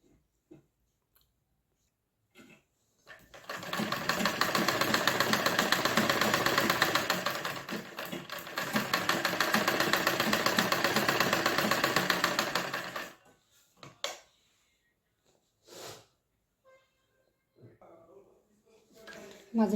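A sewing machine stitches along doubled, joined fabric in two long continuous runs, loud and steady, with a brief pause between them and a few soft handling clicks after it stops.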